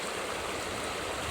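A shallow, low-water river stream rushes and burbles in a steady, dense wash of flowing water, close and continuous with no voices.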